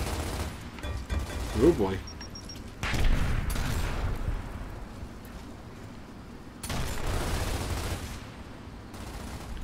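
Gunfire and exploding propane tanks in Gears of War, with bursts of shots and booms standing out against game noise, while voices talk over the action.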